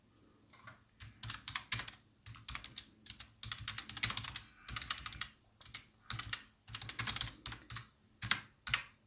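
Close, brisk typing on a computer keyboard as a title is entered, with rapid bursts of keystrokes separated by short pauses over about nine seconds, no voices.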